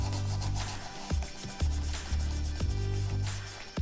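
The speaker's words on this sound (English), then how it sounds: "the entire bag is polished with mink oil" A Hermès Kelly leather bag is buffed with mink oil during restoration. Close, regular rubbing strokes repeat about twice a second over a faint steady tonal background.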